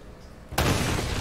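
Rubble blasts apart after being shot in Uncharted: Drake's Fortune, a sudden loud explosive burst after a quiet moment, followed by a sustained crumbling roar.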